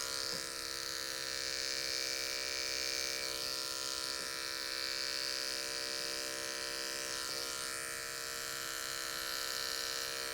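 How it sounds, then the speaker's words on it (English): An adjustable electric hair clipper buzzes steadily and close while fading a man's sideburns, its even whirring drone holding for the whole stretch with no voices. "we'll come back with our adjustable clipper again and fade out the sideburns a little more"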